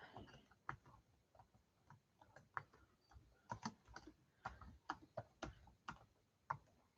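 Keystrokes on a computer keyboard tap out in irregular bursts of sharp clicks, fairly close and quiet, with brief pauses between clusters and no talking.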